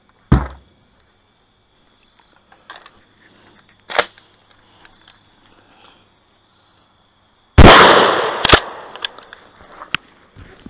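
A 12 gauge shotgun fires Winchester Ranger low recoil shells. Sharp, loud reports ring out one at a time with quiet gaps between them, and a heavier blast comes late, followed by quick echoing cracks.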